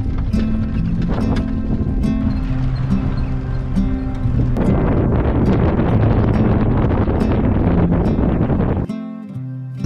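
Strong wind gusting across the Serengeti savanna ahead of approaching rain, a loud continuous rumbling buffet with a droning tone, cutting off abruptly near the end.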